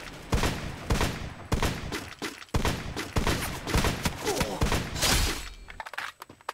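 Rapid gunfire in the video game Free Fire, dense bursts of sharp shots in quick succession with brief pauses, loud and close.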